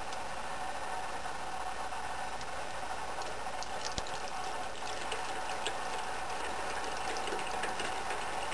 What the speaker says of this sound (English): pour the butter through the strainer.